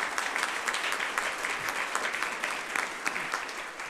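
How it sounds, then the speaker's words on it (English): Audience applause at a business economic forecast event, thanking a sponsoring partner organization: a dense, steady wash of many hands clapping at moderate loudness for several seconds. "Let's give them all a round of applause for their support today."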